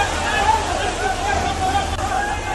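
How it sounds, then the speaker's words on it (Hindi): Floodwater rushes across a road during monsoon flooding in Bengal, a constant loud roar of flowing water with a blurred babble of people shouting beneath it. "जिसके बाद वहां पकड़ो पकड़ो की चीख पुकार सुनाई देने लगी।"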